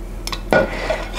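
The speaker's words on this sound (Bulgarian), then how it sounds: "Сега много внимателно ще отстрана чинията" A plate clinks once sharply against a pot or cookware as it is slid aside in a home kitchen, a brief close ceramic knock in quiet surroundings with no talking.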